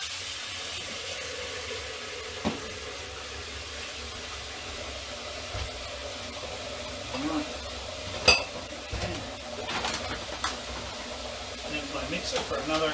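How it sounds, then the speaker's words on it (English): A mixing bowl is washed at a kitchen sink, with a continuous hiss of running water and a few scattered clinks and knocks of dishware, close by. "I'll just wash my mixing bowl, put it on the soak cycle"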